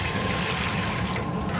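Water poured into rice for cooking pulihora, a brief, close, steady splashing pour with no talk.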